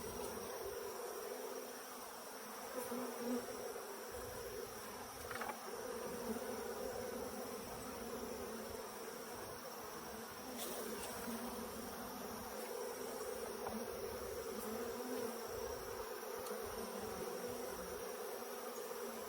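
Honey bees swarm around an opened hive, a steady dense buzzing hum that carries on throughout, close and constant, with individual bees occasionally flying nearer.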